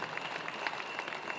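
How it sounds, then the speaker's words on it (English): Audience at a Lumbee Days cultural presentation applauding, a faint, continuous patter of many claps heard at a distance for a short stretch. "So let's give her a round of applause."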